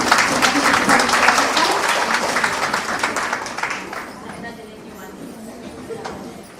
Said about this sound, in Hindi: सभी लोग तालियों से स्वागत करेंगे।